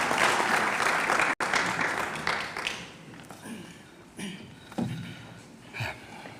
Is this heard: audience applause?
yes